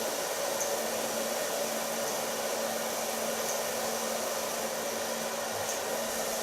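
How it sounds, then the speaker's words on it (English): A handheld blow dryer runs steadily at close range, its broadband whoosh and constant motor whine drying hair through a brush during a salon cut and color, unbroken and without talk. "so the heat of the blow dryer can get through the brush to the other side"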